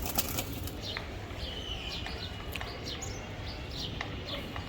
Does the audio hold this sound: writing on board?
no